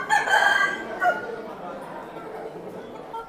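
A rooster, one of the birds left as an offering at a Murugan hill temple, gives one loud, near crow at the start, followed by a quieter outdoor murmur with a faint later call.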